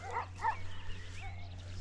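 A dog barking at night outdoors on a rural motorcycle trip: two sharp barks in quick succession, then a softer yelp, somewhat distant over a steady low hum.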